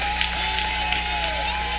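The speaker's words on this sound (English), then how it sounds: "Their fans are making some noise." Crowd of basketball fans cheering and applauding at a college women's championship game, a steady, fairly loud roar of noise with a few brief swells over its short span.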